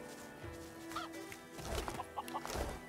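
Chickens cluck in Divinity: Original Sin II, a scattering of short clucks and squawks in the middle of a busy game soundscape, with no talking.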